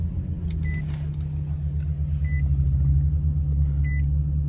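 A 2019 Nissan 370Z Touring engine runs at a steady, loud low idle rumble after starting, with a few short cabin chime beeps over it and no talking.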